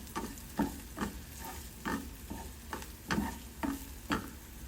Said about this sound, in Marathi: हे आपण आता परतून घेऊया